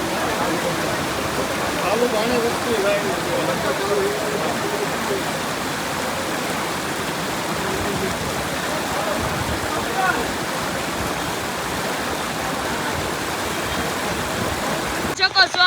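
Flood water rushes steadily down the Utavali river in Botad during rain, a broad, continuous roar like a swollen river flowing fast nearby, unchanging throughout.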